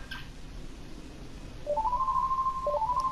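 A phone ringtone from the Kingdom Hearts 3 gummy phone, a bright melodic run of beeping tones that starts partway through and repeats, loud and close over a low background hum.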